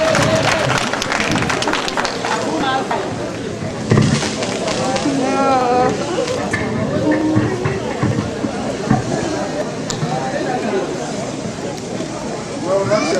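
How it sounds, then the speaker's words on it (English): Convention audience applauding in a large hall, a broad roar of clapping mixed with cheering and crowd voices, lasting many seconds with some speech over it. "Let's give a big round of applause."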